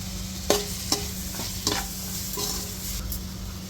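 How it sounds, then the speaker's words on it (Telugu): Masala for egg biryani fries in a pan: a constant close sizzle with a few sharp spoon scrapes as it is stirred, and no talking. "ఒక్కసారి మొత్తం ఫ్రై చేసుకోవాలి."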